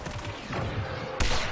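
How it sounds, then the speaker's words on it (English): Faint, continuous gunfire from the video game Star Wars Battlefront rattles in the background, with a sharper burst near the end and no one talking. "I don't know who's shooting or from where."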